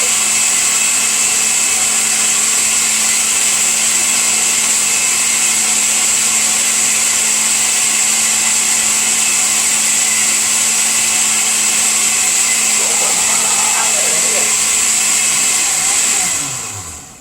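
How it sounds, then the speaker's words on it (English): Blender pureeing cooked white beans for sauce: a loud, steady high-pitched motor whir running continuously and up close, then winding down as it switches off at the end, with no talking. "I'm blending it right now."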